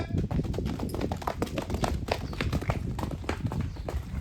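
A young filly's hooves clip-clop on the ground at a farm, a quick, irregular run of close, sharp knocks throughout, with a voice faintly in the background.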